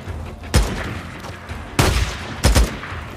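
Video game gunfire in a combat scene: three loud booming shots with sharp attacks and short rumbling tails over a continuous noisy background, with no talk heard.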